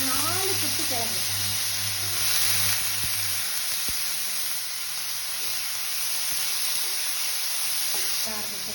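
Potato cubes, skin on, frying in a pan with a steady broadband sizzle throughout, moderately loud, with a brief tonal sound at the start.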